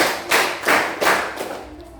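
A class of students claps together in a counted pattern, four broad group claps in a steady rhythm, fairly close and loud, with no talking.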